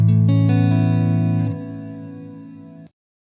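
An electric guitar through a Mooer R7 reverb pedal with trails off sustains a ringing chord that shifts pitch twice, then cuts off abruptly into silence with no reverb tail.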